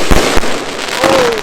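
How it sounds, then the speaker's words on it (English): Bonfire-night fireworks from a Pyrotechnology 64-shot cake going off: loud, close bursts with sharp cracks, and a rising whistle toward the end over continuous crackle. "Some absolute beast of fireworks what I've got out here tonight."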